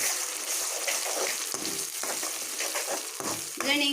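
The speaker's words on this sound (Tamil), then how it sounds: "இப்போ இந்த கருவேப்பிலை, வரமிளகாவில் சேர்த்துக்கலாம்" Curry leaves and dried red chillies fry in hot oil for a radish chutney, giving a dense, continuous sizzle broken by several short scraping stirs, with a bubbling burst near the end.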